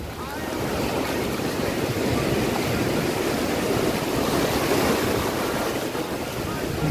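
Ocean surf at Praia da Saudade beach in Penha, Santa Catarina, Brazil, on a hot day, rolls as a steady loud wash of breaking waves with wind buffeting the microphone throughout.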